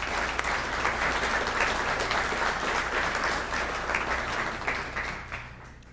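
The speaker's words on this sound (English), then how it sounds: "Let's give them all a round of applause." An audience at a city's state-of-the-city presentation gives a sustained round of applause, dense steady clapping that holds throughout and tapers slightly toward the end.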